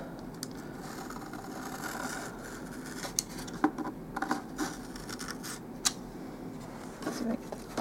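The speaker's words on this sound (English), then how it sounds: "I can use my knife and" A knife cuts and scrapes through floor covering laid over the wood floor of a mini building, giving quiet, intermittent scratchy strokes with a few sharper clicks partway through.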